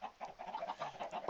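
Chicks in the Minecraft video game cluck softly in a steady run of short, repeated calls, alone and fairly quiet.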